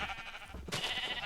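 Sheep on a sheep farm in the video game Minecraft, giving a short, near, clear bleat that rises partway through, with no voices.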